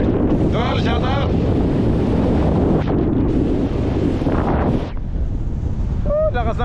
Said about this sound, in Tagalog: Ingay, malakas ang hangin.